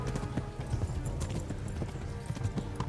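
Horse hooves gallop quickly in the medieval video game Kingdom Come: Deliverance, with rapid, close, rhythmic clip-clop thuds carrying on without a break over the whole stretch.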